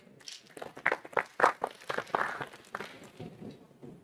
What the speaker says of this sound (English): Please give a big round of applause for it.